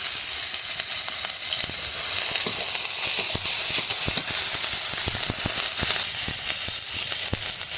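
Onion paste and spices fry hard in a pan, close and loud, as a dense, continuous sizzle and hiss with scattered sharp crackles and no talk.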